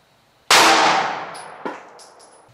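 A single Glock 19 pistol shot fired from 10 feet with Federal 9BPLE 9mm +P+ 115 grain rounds into calibrated gel test media, one sharp loud crack with a ringing decay, followed by a fainter metallic clink.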